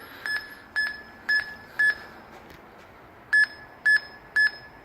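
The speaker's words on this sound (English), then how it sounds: "it starts beeping frequently here" A wireless anti-theft alarm locator, held near a wall, sounds sharp, loud electronic beeps: four in a quick regular run, a pause, then three more.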